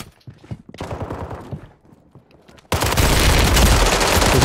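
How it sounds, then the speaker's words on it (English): Gunfire in a video game, starting abruptly partway through as dense, loud, sustained bursts of shots after a stretch of quieter game sounds. "Shot from somewhere."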